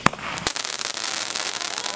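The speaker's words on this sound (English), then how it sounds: "we're out here with the fireworks and happy 4th of July" Fourth of July fireworks go off close by: a sharp bang opens, then a second burst, followed by a dense run of crackling pops.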